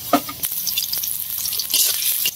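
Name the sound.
puffed rice being roasted and stirred in a pan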